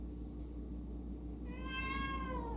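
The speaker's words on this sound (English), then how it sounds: "I'm just an old cranky kitty" An old cat begs for liver treats in a kitchen, giving one clear, rising meow near the microphone after a moment of quiet low background hum.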